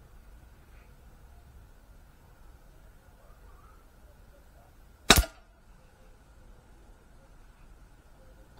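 A single sharp crack of an air rifle firing a lead pellet, loud and brief, standing out against a faint, quiet indoor background.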